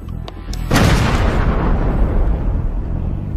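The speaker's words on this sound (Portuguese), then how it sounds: "Termine o trabalho com um ataque da artilharia" A World War I artillery attack explosion: a loud, close boom bursts out after a few faint pops, then a long, heavy rumble.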